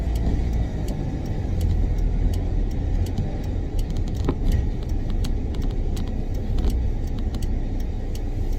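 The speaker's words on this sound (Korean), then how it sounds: "자, 다시 드라이브를 놓고 주행해 보도록 하겠습니다. 자, 속도를 조금 더 높여 보겠습니다." A used Kia Bongo 3 truck on a test drive, a steady engine and road drone heard from inside the cab with repeated light rattling and ticking clicks over the top.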